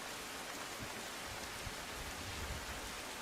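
Heavy monsoon rain pours down over Junagadh, with a flooded underbridge nearby, a steady dense broadband hiss of rainfall with no voices, fairly quiet throughout.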